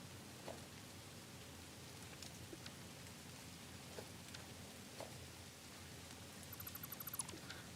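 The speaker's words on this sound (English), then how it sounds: "Oh, good, it's raining." Rain falls in the factory-building game Satisfactory as a soft, even hiss of drops. A few faint taps and clicks sit on top of it, and a light rapid ticking comes near the end, with no speech.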